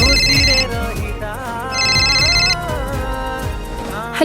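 A phone ringtone plays loudly in repeating melodic bursts, its bright bell-like tones rising and falling over a steady rhythmic beat.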